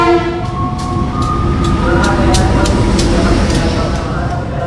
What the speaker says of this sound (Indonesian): kereta api lokal Walahar masuk di jalur 4 ya.